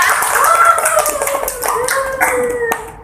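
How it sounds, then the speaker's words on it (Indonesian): Students and a teacher applaud in a classroom, a short burst of clapping mixed with excited vocal whoops and chatter. "kasih aplaus dulu buat kita"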